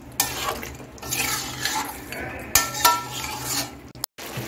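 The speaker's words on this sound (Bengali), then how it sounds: "এখন আমি সবকিছু ভালো করে আবার মিশিয়ে নিচ্ছি" A spoon stirs chicken tehari ingredients with yogurt in a metal pot, scraping and clanking in loose strokes over a low sizzle, ending in a sharp knock and brief silence.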